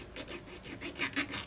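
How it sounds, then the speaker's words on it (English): A thin tungsten file rasps back and forth across chainsaw ignition points, with quick, repeated strokes that are soft and close. "It's meant to actually file, points on it while it's still installed in a distributor."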